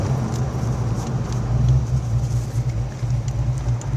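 A 1988 Mustang GT with 29K miles, its engine running in a steady, close, low rumbling idle with no talking.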